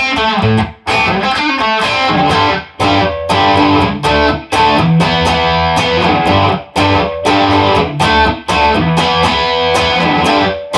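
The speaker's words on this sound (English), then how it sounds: "Distortion." An electric guitar played through a distortion pedal gives dense, loud, continuous chord riffs with short choppy breaks between phrases, and no voices.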